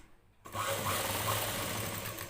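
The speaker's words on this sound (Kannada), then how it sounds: "ಇದನ್ನು ಒಂದು ಫೋಲ್ಡ್ ಮಾಡಿ ಮತ್ತೆ ಇನ್ನೊಂದು ಫೋಲ್ಡ್ ಮಾಡಿ ಇದನ್ನು ಸ್ಟಿಚ್ ಮಾಡ್ಕೊಳ್ಬೇಕು" A sewing machine runs steadily while stitching folded blouse fabric, starting after a short near-silent moment and then whirring continuously and close by, with no talking.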